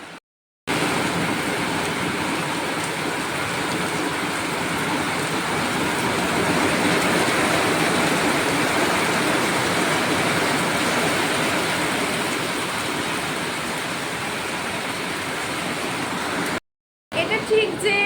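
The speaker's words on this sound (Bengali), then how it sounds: "এখন বাইরে ভীষণ বৃষ্টি হচ্ছে" Heavy rain falls outside beside a river in Santipur, a thick, constant roar that fills nearly the whole stretch at an even level, with short breaks at the very start and near the end.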